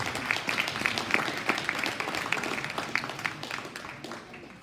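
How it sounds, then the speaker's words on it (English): Audience applause at a cattle show for young exhibitors, a moderate steady patter of many hands clapping in a large arena space, fading slightly toward the end. "let's give these young ladies a big round of applause"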